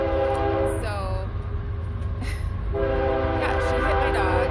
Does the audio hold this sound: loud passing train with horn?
yes